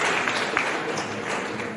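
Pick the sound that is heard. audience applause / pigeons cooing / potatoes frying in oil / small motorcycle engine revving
audience applause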